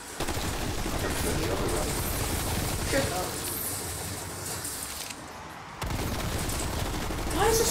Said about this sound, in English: I'm just gonna use this gun so I can save ammo for the rounds.